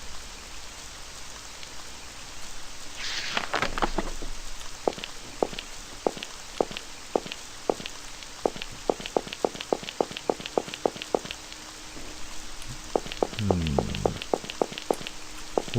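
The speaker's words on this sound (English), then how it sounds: "Today again it rains." Rain falls steadily in the video game Amayado Bus Stop, a soft constant hiss dotted with sharp individual drips and drops, joined by a couple of brief sweeping swishes, with no talking.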